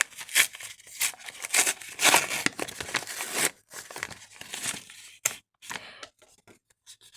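Paper surprise packets torn open and crinkled up close, loud bursts of ripping and crumpling in uneven clusters with short pauses between them, no voices.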